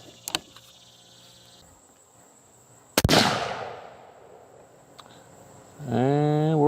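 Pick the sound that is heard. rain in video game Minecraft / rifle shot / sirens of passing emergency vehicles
rifle shot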